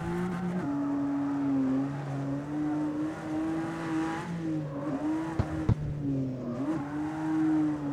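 Toyota Supra engine in the CarX Street racing game, revving steadily with rising and falling pitch as it drifts, a brief sharp tire chirp near the end, loud and close with no talking.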